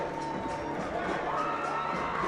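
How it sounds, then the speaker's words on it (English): A fight-night crowd cheers and shouts in a steady, dense roar of many voices, heard briefly and at an even level. "the crowd is loving every minute of it"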